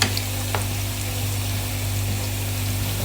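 Garlic sizzling in hot oil in a pan alongside onions for daal chawal, a steady close hiss with a couple of light stirring taps near the start.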